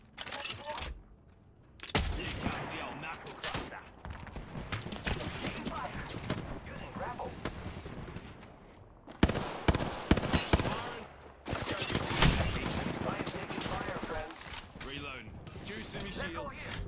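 Rapid bursts of video game gunfire crackle through a dense, busy mix of shots and impacts, with several sharp louder volleys, alongside talk throughout.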